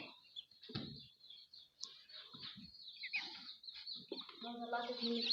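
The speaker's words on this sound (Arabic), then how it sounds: "ده فراخ بيضه" Laying hens clucking indoors in a room coop, soft scattered clucks and short calls near the listener, fairly faint, with a voice talking quietly in the background.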